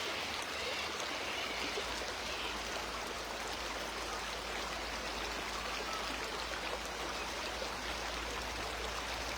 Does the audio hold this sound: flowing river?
yes